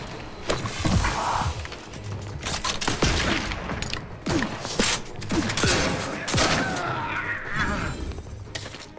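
Gunfire in the sci-fi shooter The Outer Worlds 2: loud, dense volleys of shots and thumping impacts that keep up nearly without pause, with brief gaps between bursts.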